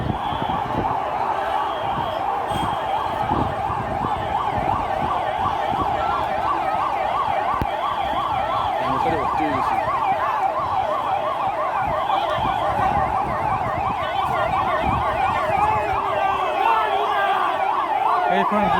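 An ambulance siren wails steadily and loudly in a continuous rising-and-falling pattern, with road traffic rumbling underneath throughout.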